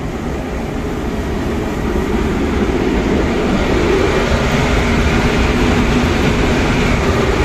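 A mobile cyclic grain dryer drying corn runs with a loud, steady mechanical roar and broadband rumble that holds unchanged throughout, with no talk over it.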